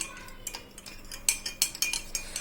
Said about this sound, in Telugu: ఫస్ట్ కలపడానికి అనమాట, ఎందుకంటే ఈ షుగర్ మనకైతే డిజాల్వ్ కావాలి కాబట్టి.